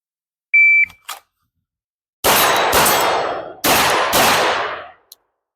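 Gunshots at an outdoor shooting range striking steel targets, with several sharp reports each followed by a loud metallic ring that decays. The ringing carries close and strong, with a brief beep before the shots.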